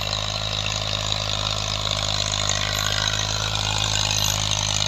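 A 2000-model Massey Ferguson 240 tractor engine runs at a steady idle, a loud, constant low throb with mechanical rattle, close by and uninterrupted.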